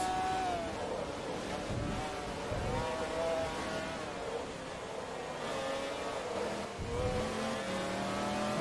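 Race car engine in Forza Motorsport 2, an R2-class car, revving and shifting steadily throughout, a continuous tonal whine rising and falling with gear changes at moderate loudness.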